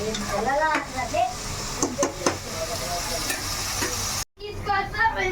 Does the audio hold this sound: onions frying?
yes